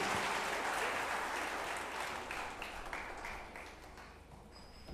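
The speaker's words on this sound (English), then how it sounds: "A mighty round of applause for Mr. Christian Stug." Audience applause in a large hall follows an introduction at a gathering, a dense, loud wash of clapping that gradually thins and fades over several seconds.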